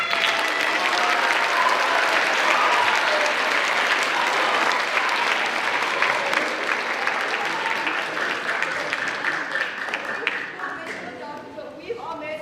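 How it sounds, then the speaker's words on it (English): Audience at an 8th grade orientation presentation applauding, a loud, sustained round of clapping that holds steady and then thins out toward the end. "Everybody give a round of applause for Riley."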